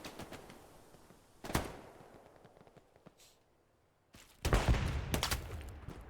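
Gunfire in a tournament video game match: bursts of automatic weapon fire, fairly faint and distant-sounding, with a sharp volley early on, scattered lone shots, a brief lull, then a louder sustained barrage near the end.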